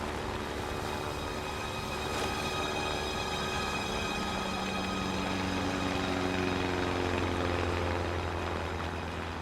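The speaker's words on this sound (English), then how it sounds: "I see this plane coming towards me." An aircraft flies overhead above the Tasman Sea, giving a steady, broad engine drone at moderate distance that holds throughout with no voices.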